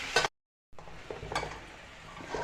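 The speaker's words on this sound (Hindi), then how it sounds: "अब ये दोनों पाए मैंने इसके अंदर डाल दिए। अब जो फ्राई होते हैं" Beef trotters fry in a clay pot with a steady, crackling sizzle. The sizzle cuts out briefly, then returns close and loud with occasional stirring scrapes.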